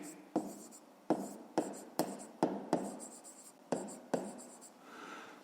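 Pen writing on paper during a math exercise: a series of sharp strokes and taps in an uneven rhythm, close and clear, with no talking.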